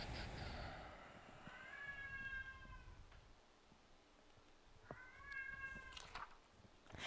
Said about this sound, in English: I just noticed the cat in the back.